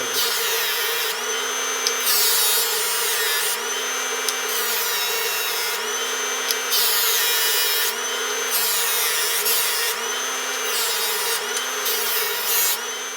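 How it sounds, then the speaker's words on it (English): A small power drill whirs continuously, its pitch rising and dipping in repeated short bursts as it bores small pilot holes for pins in a model ship, close and steady. "I'm drilling little pre-drilled holes for the pins."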